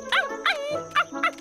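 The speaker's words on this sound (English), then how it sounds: "It's a puppy." A cartoon puppy gives four quick, high-pitched yapping barks in an even rhythm, close and clear with no talking over them.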